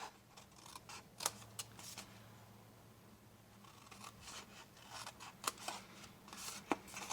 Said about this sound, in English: And then I'm going to cut up on all of my score lines.